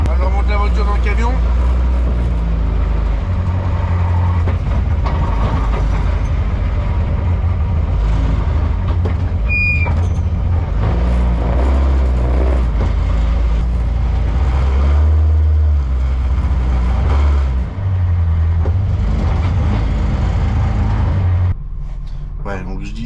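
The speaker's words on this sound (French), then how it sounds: "on monte la voiture dans le camion" Slalom race car engine at Jumièges, a low, steady rumble as the car is driven up into a truck, loud and close throughout with someone talking over it.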